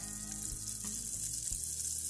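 Chopped onion frying in melted butter at the start of a béchamel sauce, a steady broadband sizzle with a few soft clicks of a utensil against the pan, close and continuous, no talking.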